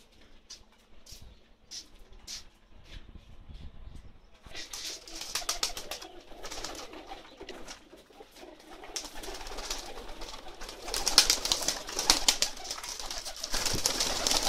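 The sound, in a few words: flying pigeons cooing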